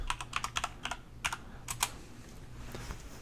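Quick clusters of keystrokes clatter on a computer keyboard, a short burst of typing followed by a few scattered taps, close up and alone with no voice over it.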